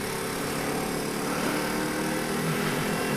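Motorcycle engine running steadily while the rider works through the gears, a continuous buzzing drone at constant level with no clear pauses.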